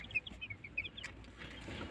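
Chicks in a warm, closed brooder box give a few faint, high chirping clucks over low background noise, heard briefly and softly.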